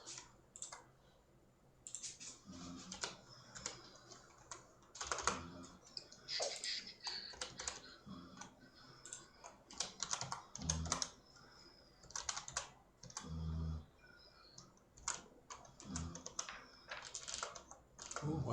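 Someone types on a computer keyboard in bursts of quick, close key clicks with short pauses between them, recorded quietly at a desk with no talking.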